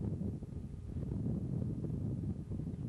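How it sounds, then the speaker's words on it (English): Steady wind buffets the microphone outdoors, a continuous low rumbling roar with slight gusty fluctuations and no voices. "Windy today."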